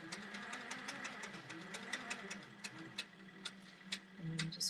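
A long arm quilting machine runs quietly while basting a quilt, giving a soft mechanical hum with regular faint ticking stitches, heard alone at low level.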